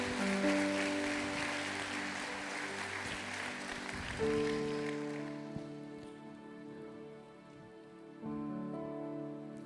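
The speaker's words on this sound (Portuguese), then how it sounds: "Quem crê nisso, dê uma salva de palmas a Ele bem forte." A church congregation at a Sunday service claps loudly together, a dense sustained burst of applause over held music that fades partway through and then swells again.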